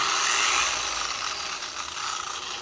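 A car polishing machine (politriz) runs steadily with a soft, airy whir and faint rubbing hiss, fairly quiet and continuous with no talk over it.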